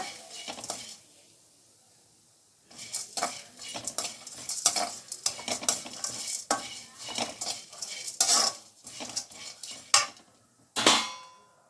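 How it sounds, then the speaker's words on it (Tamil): Ginger is stirred and roasted in a pan for pongal until dry, heard as a quiet start and then irregular close scraping and clattering strokes with occasional sharper knocks, and no speech. "இஞ்சியில் இருக்கிற ஈரம் கூட இல்லாமல் நல்லா வறுப்படணும் அந்த அளவுக்கு வறுத்துக்கோங்க"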